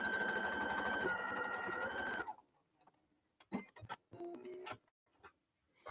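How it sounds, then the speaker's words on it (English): A sewing machine back stitches the seam of a zipper pencil pouch. A loud, fast, steady run of stitching lasts about two seconds, then stops abruptly and is followed by a few quieter handling clicks and knocks. "I am back stitching a couple of times just to reinforce it"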